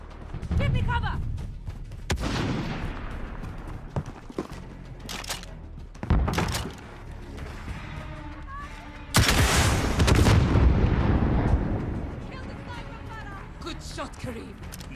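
Gunfire in the video game Call of Duty: Modern Warfare, with several loud, sharp bursts of shots and booming impacts spread across the clip, heard under and between people talking.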